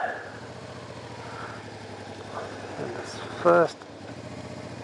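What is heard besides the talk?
Honda NTV600 Revere motorcycle engine shifting through gears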